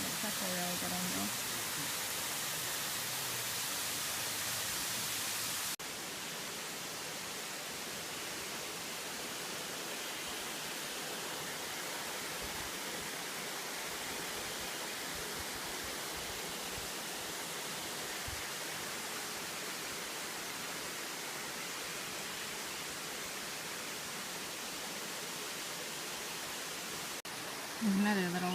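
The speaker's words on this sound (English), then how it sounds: "It's just a different angle of the same waterfall" A steady, dense roar of falling water fills the whole stretch, constant and close with no pauses.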